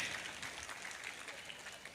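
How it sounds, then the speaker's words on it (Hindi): An audience at a university Independence Day celebration applauds in a steady, faint wash of clapping, heard from a distance and without talk. "एक बार जोरदार तालियां इनके लिए बजा दीजिए।"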